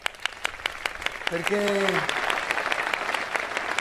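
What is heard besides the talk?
audience applause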